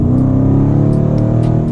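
A 2023 Dodge Challenger Widebody Scat Pack with the 392 engine holds a loud, deep, steady rumble up close, its low throbbing growl sustained throughout with no voices.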